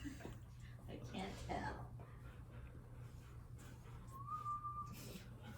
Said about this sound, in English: You don't like my whistling